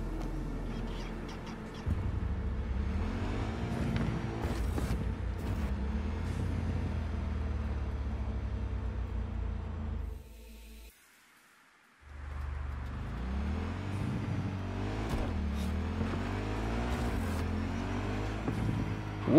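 A moped ridden in the video game Cyberpunk 2077, its steady engine drone carrying on for about ten seconds, cutting out briefly, then returning with rising and falling revs; no talking.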